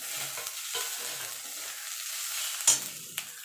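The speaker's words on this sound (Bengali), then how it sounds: "এবার একটুখানি নাড়াচাড়া করে নেব, খুব ভাজা ভাজা করব না।" A cauliflower mixture with chopped green chilli is stirred in a frying pan, making a soft, low sizzle broken by a few scraping strokes, the sharpest near the end, with no one talking.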